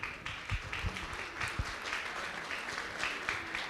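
Audience applause at an awards ceremony for the Balafon Music Awards, a steady wash of clapping from a crowd that holds evenly for several seconds with a few sharper nearby claps early on.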